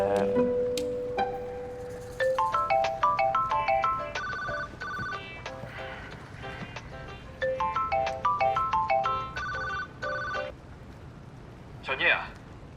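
A phone ringtone plays a bright melodic pattern of chiming notes, looping several times in close, clear bursts before cutting off.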